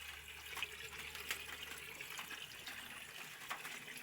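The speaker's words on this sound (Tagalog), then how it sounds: "malabas yung tubig dito sa washing" Water from a washing machine drains through its rubber drain hose in a faint, steady rush with a light trickle, no voices.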